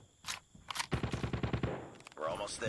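Rapid bursts of automatic gunfire in Call of Duty Mobile, likely the CX-9 gun, sharp evenly spaced shots in a quick rhythm with short gaps, fairly close, with faint game sounds around.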